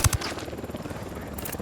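In Ghost Recon Wildlands, a helicopter's rotor thrums steadily in the background, with a couple of sharp thumps at the start and game sounds over it.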